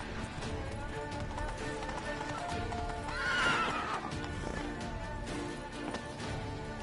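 Geralt's horse Roach in The Witcher 3 video game gives a clear whinnying neigh midway through, over a steady clip-clop of galloping hooves and a busy game soundscape at moderate level.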